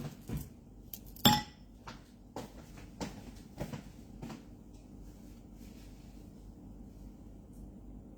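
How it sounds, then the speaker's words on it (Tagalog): A kawali is handled and set down with a loud metallic clank near the start, followed by several lighter knocks, clinks and shuffles of cookware that fade to quiet. "Ini-edit ko lang yung kawali ko."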